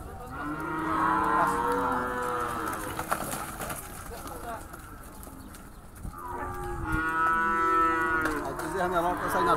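Nelore cattle moo loudly at a busy livestock market in Campina Grande, two long drawn-out calls rising over background crowd noise and occasional voices.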